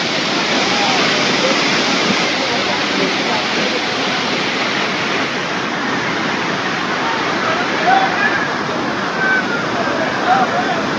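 Roar of Karnataka's biggest waterfall heard from its top, a loud, steady broadband rush of falling water that fills the whole clip with no letup.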